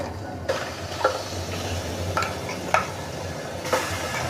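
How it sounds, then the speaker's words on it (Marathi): Oil sizzles steadily in a pan as garlic chili paste fries, while a utensil taps and scrapes a few times at irregular intervals, close by. "हे पूर्ण असं घालून घेते तेलामध्ये चांगलं काय करायचं ते कच्चं नाही ठेवायचं"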